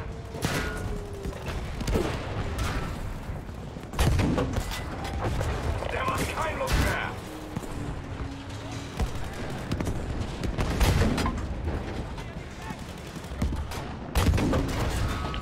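Battlefield V war campaign combat with gunfire and artillery: repeated sharp shots and booming blasts scattered across a steady rumble of battle, with a clear heavy hit near the end and a voice speaking over it.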